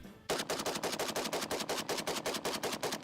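Rapid automatic gunfire of 7.62x39 rounds flying past, a loud sustained string of evenly spaced sharp cracks following a brief quiet lead-in.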